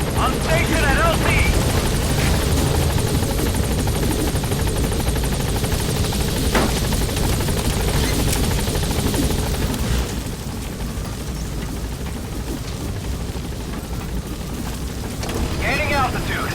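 A Pequod transport helicopter in Metal Gear Solid V: The Phantom Pain arrives at a landing zone, its loud, steady rotor and engine roar filling the scene continuously with some shifting rumble in the background.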